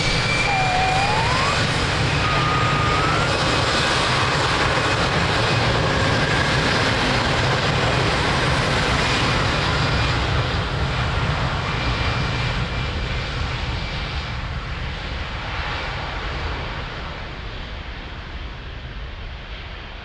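Airliner engines roaring during takeoff on runway 02 at Lisbon Airport, a loud broad rushing roar that holds steady and then slowly fades as the jet climbs away, with no talk.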